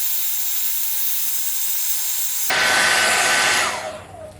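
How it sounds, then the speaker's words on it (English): A hair dryer blowing over a watercolor painting to speed-dry it, switching on abruptly with a loud, steady whooshing hiss that holds for about a second before tapering off. "I'm going to speed dry this now"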